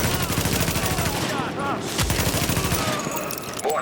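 Dense gunfire in The Division video game, rapid overlapping bursts of automatic shots rattling almost continuously, with brief lulls and scattered game effects mixed in.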